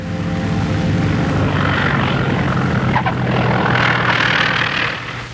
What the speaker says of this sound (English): With a 20-knot wind to slow him down, Harry Bliss lands with runway to spare